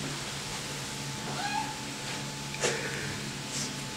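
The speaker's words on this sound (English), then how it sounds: "She just meowed when I pet her." A Maine Coon mix cat gives a short meow, followed by a second fainter mew, over a steady low background hum in a quiet room.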